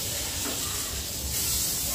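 Butter sizzling in a hot pan while sweet corn chaat is being made, a steady close hiss with faint crackle that grows slightly louder toward the end.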